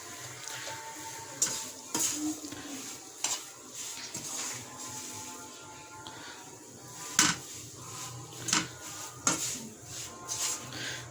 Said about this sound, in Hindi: एक मिनट तक मैं इसे मिक्स पकाऊंगी जी।